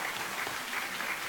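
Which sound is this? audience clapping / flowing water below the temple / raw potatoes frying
audience clapping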